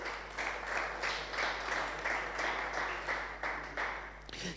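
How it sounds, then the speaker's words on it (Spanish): Rhythmic group clapping in steady bursts at a church service, moderately loud, continuing for several seconds before stopping abruptly. "Denle un aplauso al Señor"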